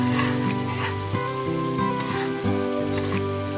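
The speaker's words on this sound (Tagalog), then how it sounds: "Ayan, kumukulo na yung ating gata." Coconut milk boils and sizzles steadily in a pan while Bicol express is being cooked, a close, continuous bubbling crackle with music playing underneath.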